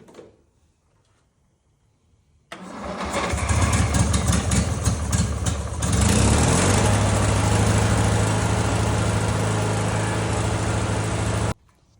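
An old, neglected riding lawnmower engine catches after a short silence and roars up quickly, then keeps running loud and steady at a rough, rattling idle until it stops abruptly near the end.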